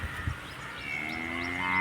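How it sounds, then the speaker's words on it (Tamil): A cow raised at home calls out in a single drawn-out moo that rises in loudness toward the end, close by, with a few soft thumps at the start. "அமைதியான மாடு"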